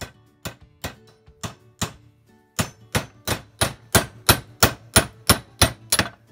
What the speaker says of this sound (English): I'm going to try to use a chisel. See if I can break the weld around there